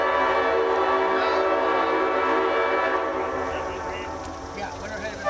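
A Leslie 5-chime train horn sounds at Oak Ridge in a sustained, rich multi-tone blast that holds steady and then fades slightly, with a voice faintly audible underneath.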